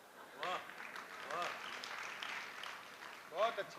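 Audience applause at a Hindi poetry recital (kavi sammelan) in a school hall, a steady wash of clapping in the middle of the clip, with a voice reciting and speaking over it before and after.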